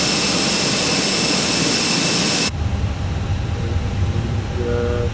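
An Airbus A320-200 jet engine spools down after a blowout cycle, a loud broadband roar with high whine that cuts abruptly to a lower rumble, and faint tones rise near the end; nobody speaks.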